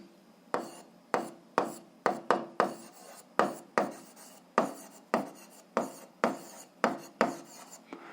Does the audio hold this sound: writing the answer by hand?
yes